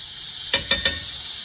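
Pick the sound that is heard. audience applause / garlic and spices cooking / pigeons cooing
garlic and spices cooking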